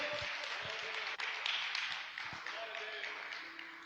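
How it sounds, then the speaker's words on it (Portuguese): Congregation applauding during a church service, steady clapping with a few distinct sharp claps rising above it, continuous for a few seconds in a reverberant hall. "Vamos aplaudir o Senhor por essa palavra, amém?"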